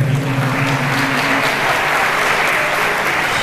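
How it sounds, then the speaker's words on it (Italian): Wedding guests at a hotel reception clap steadily in a dense, even burst lasting several seconds, with faint music tones underneath at the start. "facciamogli un grosso applauso"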